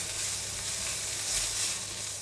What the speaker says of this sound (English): Minced pork will take around 2 to 3 minutes to cook.